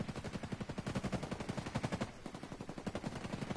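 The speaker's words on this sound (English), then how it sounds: "that gunfire's close by" Rapid automatic gunfire in the shooter game Ghost Recon Breakpoint sounds as a steady burst of closely spaced shots, with a short pause before it resumes, loud and close with no talk over it.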